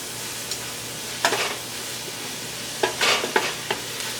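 Onions with garlic and ginger being stirred in a pan for vegan orange chicken, a soft steady sizzle broken by several scraping spoon strokes, clustered near the middle and end of the stretch.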